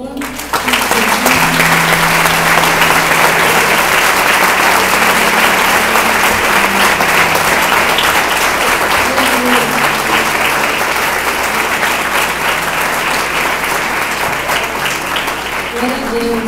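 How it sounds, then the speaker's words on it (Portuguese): Church congregation claps loudly and continuously for a long stretch, a thick sustained roar of many hands with music or voices faintly underneath. "Aplauda o Senhor."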